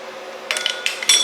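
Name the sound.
hand tool tightening serpentine belt tensioner bolts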